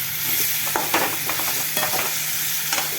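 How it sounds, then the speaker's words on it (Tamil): Bitter gourd frying slowly in a pan until it shrivels, giving a steady close sizzle broken by several sharp scraping clanks of a stirring spoon. "பாவக்காய் நல்லா சுருள வேகணும்"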